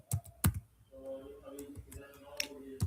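Light, quick keystrokes on a computer keyboard while Python code is typed, a run of soft irregular clicks at close range with a voice talking over part of it.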